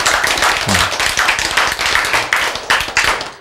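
Brief burst of clapping from a small church audience at a sermon, sharp close claps in an uneven rhythm over a few seconds, with a faint voice briefly underneath.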